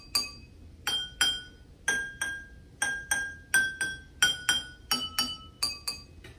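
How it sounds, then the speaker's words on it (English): Drinking glasses filled with different water levels are struck one after another, giving about fifteen clear ringing tones at varied pitches in a loose, uneven rhythm, each chime decaying quickly in a quiet room. "Now, which glass produces a lower sound and which one produces a higher sound?"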